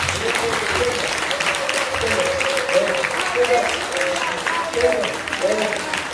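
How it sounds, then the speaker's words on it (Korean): A church congregation applauds during a celebratory worship service, sustained, even clapping filling the room while murmured voices continue underneath. "저들에게 먼저 박수 한번 쳐주시고"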